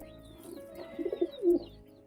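Pigeons in a home loft coo softly, a few low, throaty rolling calls rising in the middle and near the end against quiet background hiss.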